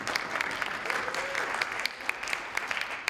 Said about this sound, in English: Students, let's give a round of applause to our...